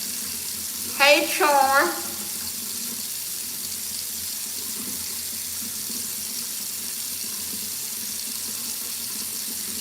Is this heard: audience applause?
no